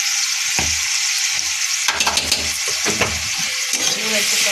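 Crab frying loudly in a pan with cumin powder, a steady close sizzle broken by repeated scraping stirs of a spatula.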